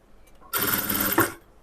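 A sewing machine stitches a lining blouse in one quick continuous run of under a second, loud and close, starting abruptly and stopping after a faint earlier clatter.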